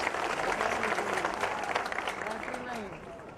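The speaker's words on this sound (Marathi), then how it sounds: "त्यांच्यासाठी आपण जोरदार टाळ्या वाजवाव्यात." Dense crowd applause fills an outdoor political rally in Bhigwan, steady clapping throughout with a faint voice over a loudspeaker running beneath it.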